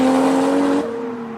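A white Toyota Supra engine revs with a strong steady tone that drops in pitch and eases off partway through, heard close and fairly loud with no talk.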